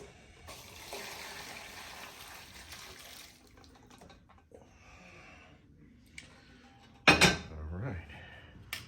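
Leftover liquid from a goat neck stew pan is strained, with a steady pour of liquid running for about three seconds, then quiet handling and a sudden loud metallic clatter of the pan near the end.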